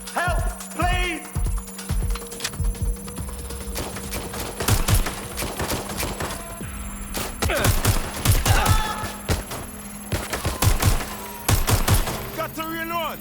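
Gunfire in the video game Watch Dogs: Legion, with repeated bursts and rapid volleys of shots across a game firefight, heavy bangs clustering mid-scene while character voices shout over the shooting.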